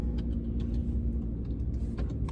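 A car in motion, heard from the cabin as a constant muffled road and engine hum with small bumps, close and steady for a couple of seconds.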